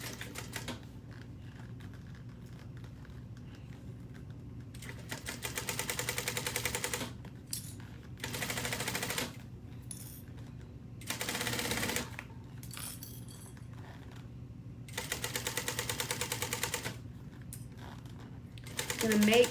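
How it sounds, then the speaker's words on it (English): A sewing machine runs in several bursts of rapid, even stitching, sewing fabric an eighth of an inch from the folded edge at stitch length 4. Quiet pauses fall between the runs, and a voice speaks softly in places. "going to sew this at an 1/8 of an inch on the folded side"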